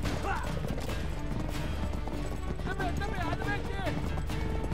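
Hooves clatter in a steady galloping rhythm amid busy Uncharted 3: Drake's Deception game sounds, with voices and shouts layered over the running horses.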